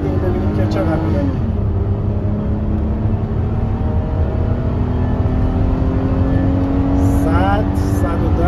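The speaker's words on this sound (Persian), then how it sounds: "وگرنه دوباره گاز میدیم ببینیم که چقدر میره" A car engine at full throttle, loud and close, climbing in pitch through several gear changes, with a steady hum throughout and someone talking over it.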